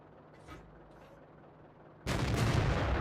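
A tank gun fires in World of Tanks with one sudden loud, close shot. The report rolls on as a rumbling boom after a quiet lead-in with faint mechanical sounds.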